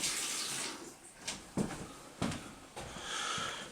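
Water gushes from a shower faucet pulled open and left running while plumbing is winterized, a steady close hiss with a few brief knocks and splashes along the way.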